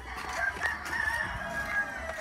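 A rooster among purebred white Kelso chickens crows, a drawn-out call standing over a constant background hum of farmyard noise, with no talk.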